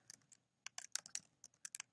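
Quick bursts of close, crisp key clicks come from a computer keyboard as sign-up details are typed in, with short pauses between the runs of keystrokes.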